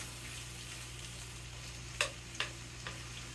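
A few spatula scrapes and knocks against a pan, about three of them, heard over a steady low sizzle of frying frittata ingredients.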